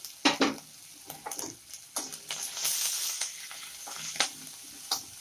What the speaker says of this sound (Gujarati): લસણ થોડું પિંક થાય ત્યાં સુધી આપણે એને આવું ફ્રાય કરીશું